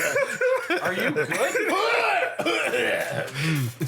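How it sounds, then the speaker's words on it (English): A person clears their throat and gives a few short coughs in a casual indoor setting, with chuckles and talk mixed in and around the sounds. "just clear my throat a little bit"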